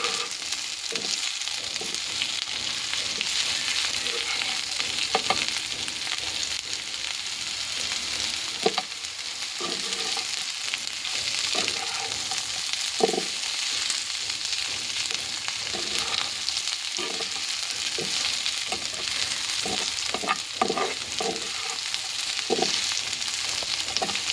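Dried fish and pointed gourd peel frying in a pan, a continuous soft sizzle broken by repeated scraping stir strokes, close and steady with no talk.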